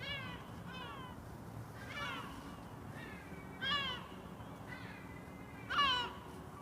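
Cat meowing at feeding time outdoors: several separate meows a second or two apart, moderately close, the last ones louder, over a low background hum.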